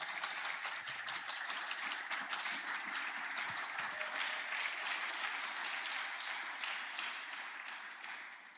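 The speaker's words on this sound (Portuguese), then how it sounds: "Se você crê nisso, aplauda o nome de Jesus." A church congregation claps steadily and densely for several seconds after a call to applaud, the crowd's applause fairly distant and fading slightly toward the end.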